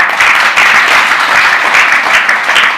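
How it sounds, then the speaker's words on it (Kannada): Audience at a spiritual discourse claps loudly and continuously, a dense, even wash of many hands close and strong throughout, with no talk over it. "ಒಂದ್ಸಲ ಜೋರಾಗಿ ಚಪ್ಪಾಳೆ ಹಾಕ್ರಿ"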